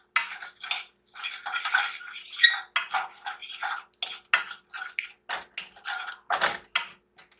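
Spoon scraping and clinking against a pan or bowl while turmeric is mixed into food for a fish fry, a steady run of short metallic scrapes and taps heard up close with no talking.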